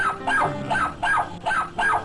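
A dog in a parody charity commercial gives a rhythmic series of whiny, yipping barks, about five evenly spaced cries, fairly loud and close.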